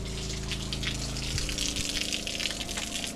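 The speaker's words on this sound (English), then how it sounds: "That's my pump. Plug it into the Jackery." A small electric pump powered by a portable battery pushes pond water through a camping filter, a steady close motor hum layered with rushing, gushing water and no speech.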